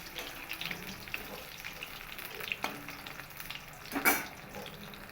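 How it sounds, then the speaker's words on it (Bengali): Pieces of brinjal fry in hot oil with a soft, quiet sizzle that crackles faintly and steadily, with a brief sharper burst of spattering near the end. "আমি বেগুনগুলোকে ভেজে নেব।"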